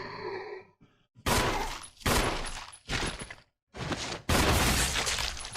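Grenade blasts in the Resident Evil remake, several loud broadband bursts in quick succession separated by brief gaps, each hitting hard and decaying fast, with a faint voice at the start.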